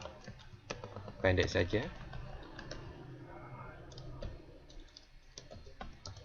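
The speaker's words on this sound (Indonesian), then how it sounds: "Saya ketik nama saya." Typing on a computer keyboard, quick clusters of clicking keystrokes with a denser burst early on, close and fairly quiet, with a person speaking briefly.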